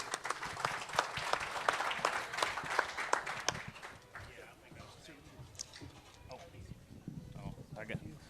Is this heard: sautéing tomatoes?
no